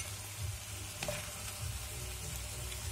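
Pumpkin, potatoes and smoked pancetta sauté in oil with onion, giving a steady soft sizzle broken by a few light stirring scrapes.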